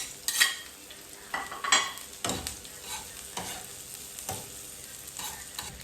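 Garlic sizzles in a hot pan while being stirred, with crisp bursts of frying crackle and several sharp scraping stirs spaced across the clip, fairly close and moderately loud.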